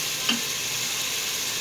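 Lentils for rajmah (kidney bean) dal are fried and stirred with a spoon in a pan, giving a steady, even sizzle with one light scrape of the spoon near the start.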